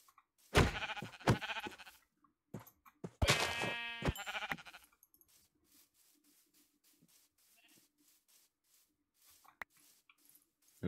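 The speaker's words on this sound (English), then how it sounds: "There's another sheep." A sheep in Minecraft gives a couple of short, clear bleats close by, separated by quiet gaps with faint clicks and game noises around them.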